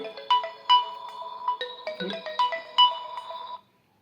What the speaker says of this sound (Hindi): पुन्हा फोन आलेला आहे